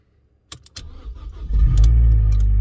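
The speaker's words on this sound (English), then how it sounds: "you can hear the actual exhaust spluttering as it starts" An Abarth 595 engine cranks with a few sharp clicks, then catches and settles into a loud, steady idle with a spluttering exhaust.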